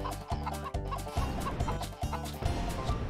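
A chicken in the game Mort the Chicken clucks in quick, close, repeated bursts over steady tonal background sound, with no talking.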